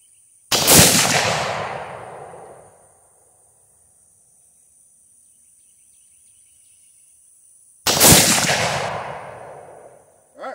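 Two loud, sharp rifle shots fired from a night vision hunting rig, spaced about seven seconds apart, each cracking close by and trailing off in a long rumbling echo through quiet night air with crickets in the background.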